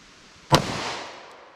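A .40 Smith & Wesson pistol fires a single shot into a clear ballistics gel block backed by denim layers and MDF, a sharp loud crack followed by a decaying echo.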